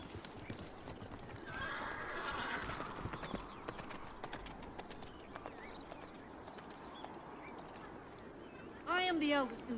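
Hooves clip-clop steadily on hard ground at a brisk pace, then a horse gives a loud whinny near the end.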